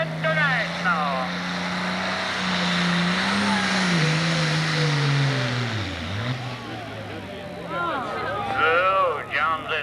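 A 1066 International pulling tractor roars at a 1995 tractor pull in Fisher, Illinois, its engine droning loud and steady, pitch sagging under load then recovering, with an announcer talking over it.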